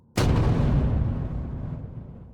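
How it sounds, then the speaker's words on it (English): A single deep, loud boom of cannon fire over water bursts suddenly and then rumbles and decays slowly for about two seconds, heard alone without talk. "The cannons fired. Explosions shook the waters."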